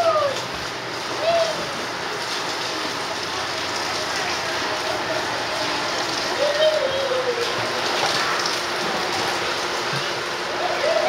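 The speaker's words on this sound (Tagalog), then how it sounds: "Ay, shower na tayo." Shower water running steadily in a bathroom, a constant hiss of spray and splashing close by, with a voice and other talking heard over it at moments.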